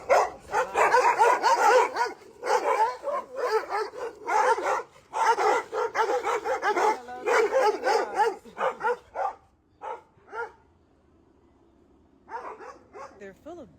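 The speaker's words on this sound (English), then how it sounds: "oh man, that's some barking dogs." Several dogs bark in rapid, overlapping bursts nearby, loud and insistent, with some yips, before the barking thins out and trails off into quieter scattered yaps.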